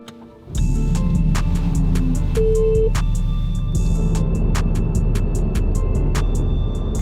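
Ferrari engine starting up and running, a sudden low rumble that settles into a steady, loud drone heard from inside the cabin, punctuated by regular ticking clicks.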